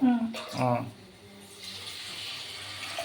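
Water pours steadily into a pot of rice for egg biryani, four and a half glasses, with a continuous rushing hiss, close by, after a brief voice at the start.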